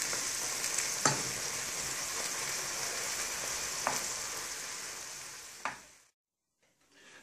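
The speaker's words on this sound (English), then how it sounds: "Just frying the bacon pieces to remove the fat and water." Bacon pieces fry in a pan with a steady close sizzle and crackle, a few sharper pops or stirs, before the sound cuts off near the end.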